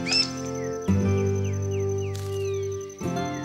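Birds along the banks of the Paraguay River give several bright chirps and downward-sliding calls over a steady low engine-like drone, fairly close and clear.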